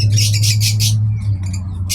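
Close, harsh bird squawks come in quick repeated bursts in a garden in Dubai, over a low steady hum in the background.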